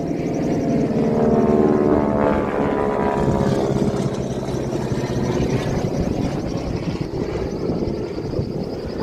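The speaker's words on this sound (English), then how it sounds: "We hear planes and helicopters over us all day, every day." A propeller aircraft drones overhead, a steady loud engine hum that swells and slowly fades, with some wind buffeting the microphone.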